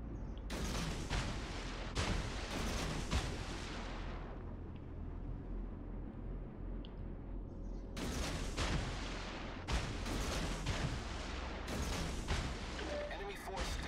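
Warship guns fire in a naval combat video game, heavy booming blasts in clusters with rumbling tails and a lull in the middle, loud and close, with game ambience throughout.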